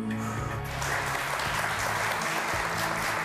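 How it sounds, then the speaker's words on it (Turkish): A studio audience on a Turkish TV word-game quiz show applauds steadily, a dense wash of clapping throughout, with music fading out at the start. "Çok tatlı alkışlar."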